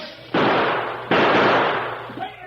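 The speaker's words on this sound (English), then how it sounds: "Hey, that'll give them something to think about. That cannon." Two heavy cannon blasts roughly three-quarters of a second apart in a western drama, each a loud broadband boom that decays slowly, followed by a smaller crack near the end, with no talk over them.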